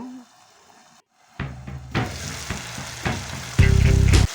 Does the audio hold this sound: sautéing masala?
yes